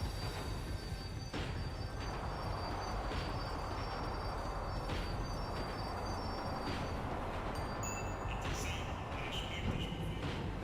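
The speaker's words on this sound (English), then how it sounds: "The tram was slowing down." A tram in Max Payne rumbles steadily as it slows, with a continuous low rolling drone, faint metallic wheel squeals and brief brake hisses toward the end, all fairly quiet.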